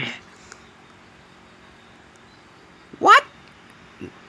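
A cat in Minecraft gives one short, sharp meow near the middle, with a faint softer call just after, over a quiet game background.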